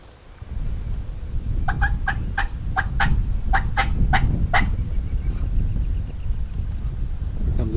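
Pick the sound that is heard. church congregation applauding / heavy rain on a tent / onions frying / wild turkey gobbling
wild turkey gobbling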